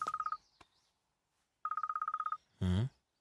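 A telephone rings in two bursts of rapid electronic trills separated by a short silence, followed by a brief low buzzing tone at the end.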